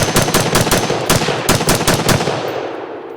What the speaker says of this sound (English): I'll do the last mag through the Hellion.